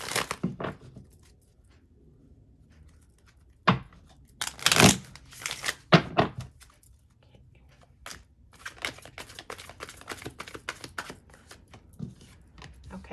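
Tarot cards being shuffled during a Scorpio reading, heard as scattered bursts of papery riffling and slapping, with a denser run of quick soft flicks in the second half, fairly close and with no talk.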